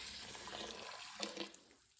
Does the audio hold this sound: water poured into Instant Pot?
yes